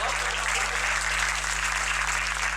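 Sustained audience applause at a Hindi comedy poetry performance, a dense, steady wash of clapping from a large crowd that holds at an even loudness throughout.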